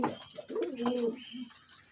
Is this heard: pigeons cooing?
yes